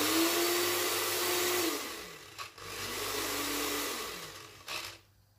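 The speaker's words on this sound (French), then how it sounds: "Nous allons mixer tout ceci." A blender purees grilled mushrooms and broccoli for crêpe quenelles, whirring loudly and steadily, then pausing briefly twice and restarting before cutting off.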